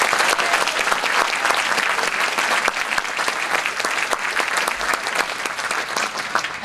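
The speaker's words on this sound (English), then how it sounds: "please join me in giving a warm round of applause for all of these supporters and sponsors" An audience at an opening film-festival screening claps in a warm, sustained round of applause, dense and fairly close throughout.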